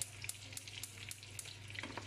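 Breaded fish reheating in butter in a pan gives a faint, steady sizzle dotted with small crackles and pops throughout, with no voices.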